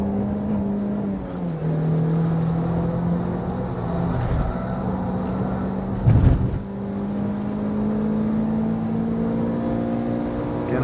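A 2006 MINI Cooper S JCW GP engine runs hard on a track, a loud, sustained in-car drone whose pitch climbs and holds near high revs, with a brief thump and gear change around the middle and no talk.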